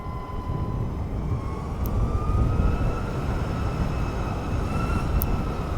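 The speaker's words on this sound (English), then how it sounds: "You hear this whining sound from the engine." The electric motor of a 2023 Ovaobike MCR-M motorcycle whines steadily, its pitch slowly rising during a ride on twisty roads, over a loud continuous roar of wind.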